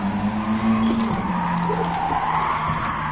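Car tyres skid and squeal under hard braking in the Gran Turismo Sport racing game, a loud sustained screech with engine drone running steadily through the whole stretch.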